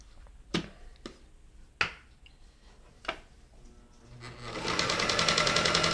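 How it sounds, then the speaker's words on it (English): An early 1970s Kenmore Model 1030 compact portable mechanical sewing machine, a few isolated clicks and taps, then the motor starts and stitches in a steady rapid whir that continues to the end, fairly close. "this is the Kenmore Model 1030 compact portable sewing machine. It's an early 70s mechanical sewing machine"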